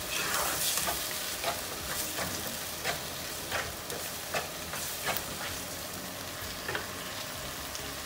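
Onion and tomato mixture for an egg curry cooking in a pan, with a quiet, steady sizzle and occasional soft stirring clicks, fairly close.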